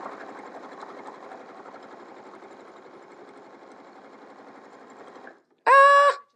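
A sewing machine runs a long, steady burst of fast, buzzing stitches as it top stitches close to the edge of a mesh zipper pouch. It stops abruptly, and a brief loud tonal beep follows.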